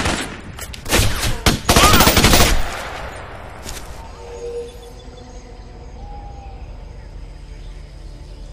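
Enemy gunfire in the Raven Squad video game, a loud, rapid burst of shots in the first few seconds that then fades into quieter game ambience.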